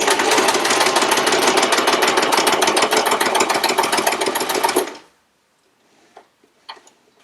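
A sewing machine runs steadily and loudly for about five seconds, stitching quilt blocks with a rapid mechanical chatter, then stops, leaving a few faint clicks and handling sounds.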